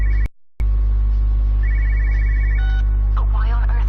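A telephone rings in the video game Everybody's Gone to the Rapture, a few short electronic ring bursts over a steady low hum, with a brief dropout near the start.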